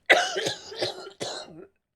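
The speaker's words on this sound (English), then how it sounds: "The cough still lives." A couple of harsh, close coughs in quick succession, followed by a brief throaty rasp.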